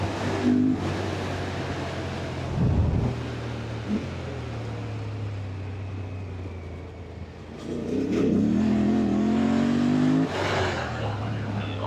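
A Yamaha Tenere motorcycle engine revs on a hard-packed sand trail, a steady, loud drone that rises and falls with throttle, swelling in pitch near the end, without speech.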